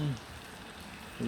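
Rain pours down in Saudi Arabia, a steady wash of falling water filling the short stretch, with brief bits of a voice at the start and end.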